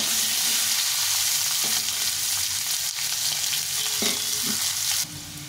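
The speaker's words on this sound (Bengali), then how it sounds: "আলুগুলো দিয়ে দেবো। আলুগুলো ভালো করে ভেজে নেব।" Halved peeled potato pieces frying in hot oil in a pan, a loud continuous close sizzle with occasional stirring knocks, dropping in level near the end.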